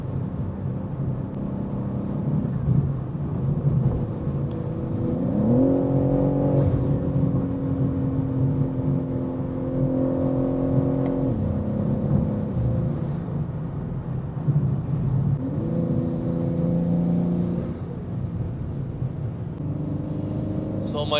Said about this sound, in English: The sound of this blow-off valve, it's so good.